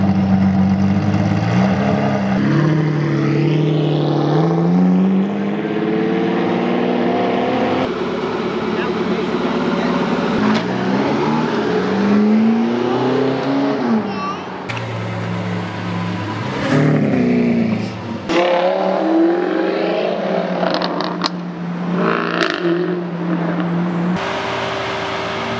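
A car engine revs and surges repeatedly up close as the car slides under a hydraulic handbrake, with rising and falling engine notes and people talking and exclaiming over the noise throughout.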